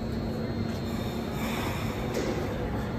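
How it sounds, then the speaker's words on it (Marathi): Local train stopping at Dadar station in Mumbai: wheels squeal in a loud, steady, high-pitched screech above a low rumbling roar, close by, with faint crowd noise underneath. "त्यामुळे ट्रेन थांबली आहे।"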